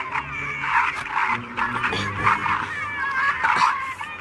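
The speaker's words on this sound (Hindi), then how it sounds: "सभी जंगली डॉगी गुर्रा रहे हैं, पागल हो रहे हैं।" Several wild dogs snarling and whimpering in agitation in a Hindi horror film scene, with excited yips and pants rising and falling in waves of moderate loudness over a low rumbling background.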